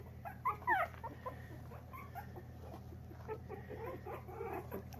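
Puppies whimper and cry softly indoors, thin high squeals scattered through the clip with faint shuffling and pattering, over a low steady room hum.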